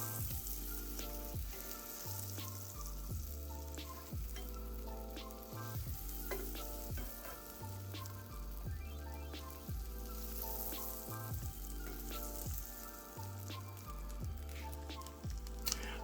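A grilled cheese sandwich with bologna fries steadily in a pan on the stove, a loud, continuous close sizzle with crackle running throughout, alone and without talk.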